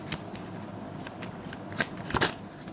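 Tarot cards being shuffled by hand, with soft riffling bursts and a couple of sharper flutters near the end, fairly close and alone against a quiet background.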